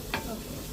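Chicken pieces frying on a low flame in a pan with no oil, a single scrape of a stirring spoon near the start over a steady soft sizzle.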